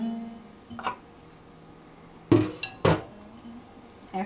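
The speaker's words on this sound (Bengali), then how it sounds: "এখন মাংসটাকে আমি একটা হাঁড়িতে নিয়ে নিচ্ছি" Meat being put into a cooking pot for aloo gosht, a few scattered metallic clinks and knocks of pot and utensils in a quiet kitchen, with short gaps between.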